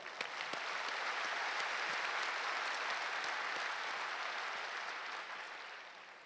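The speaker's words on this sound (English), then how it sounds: "Please give yourself a big round of applause." A large Rotary convention audience in Sydney gives a big round of applause, dense sustained clapping that holds steady before tapering off at the end.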